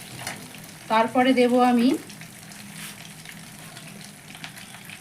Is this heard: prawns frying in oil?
yes